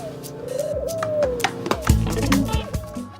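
A bird coos softly like a pigeon or dove, a few low rounded calls mixed in with steady tonal music and other background sounds.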